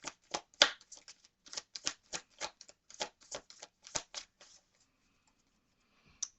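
A tarot card deck shuffled by hand up close, quick rapid riffles and snapping flicks in bursts for about four seconds, then quiet.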